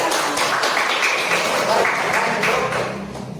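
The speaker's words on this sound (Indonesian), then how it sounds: "Ya, tepuk tangan" An audience at a primary school coding session breaks into applause, a continuous wash of clapping that softens near the end.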